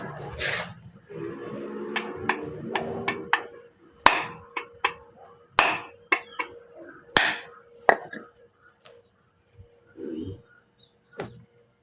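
Sharp hammer blows strike wood in an irregular series of loud, close knocks, with a low mechanical hum early on and occasional faint background sounds.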